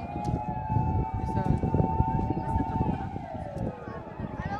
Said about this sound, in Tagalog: May mga fire truck la to